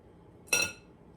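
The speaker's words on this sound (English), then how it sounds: "you're gonna start placing them in your baking pan" A single brief clink as a stuffed pasta shell filled with chicken, spinach and cream cheese mixture is set into a baking pan, sharp and close against a quiet room, then fading quickly.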